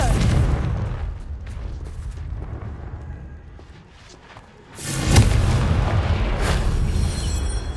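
Confringo blasting-spell explosions in Hogwarts Legacy: rumbling booms and crackling bursts early, a brief lull, then a louder, sharp blast that keeps roaring close by.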